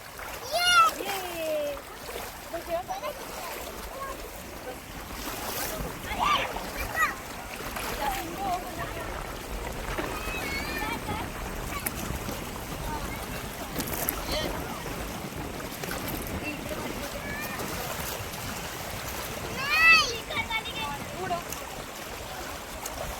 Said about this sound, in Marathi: उडव पाणी, पाणी उडव.